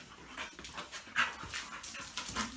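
A pit bull and a female Dogo Argentino at play, with close panting, soft whimpers and scuffling bursts in an irregular rhythm, fairly quiet and with no talk.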